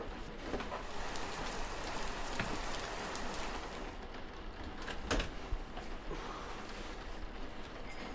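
Steady heavy rain falls outside on a miserable day, a constant dense hiss with scattered drip-like taps, fairly faint and without talk.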